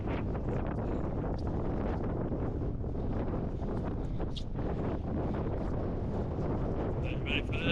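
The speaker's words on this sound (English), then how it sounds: "Wind's picked up now" Strong wind gusts across the microphone on an open hillside during a hike between Llyn y Fan Fach and Llyn y Fan Fawr, a steady, close rumbling buffet that lasts throughout.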